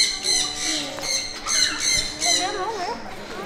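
A bird at Lembang Park & Zoo squawks while being hand-fed, with several loud, close, harsh calls in quick succession and people talking around it.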